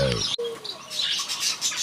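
Small finches in a large aviary being fed white millet, with several bright chirps and short calls close by, clustered near the start and again toward the end, and no talk.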